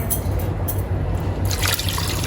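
Steady pouring and trickling of about 1.5 glasses of water into a cooking pot for beef karahi, continuous and close, with a brief splashier burst near the end.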